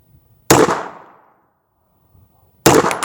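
Two sharp pistol shots from a Hi-Point C380 fired at a target 25 yards away, about two seconds apart, each loud and near with a short decaying tail, no talking.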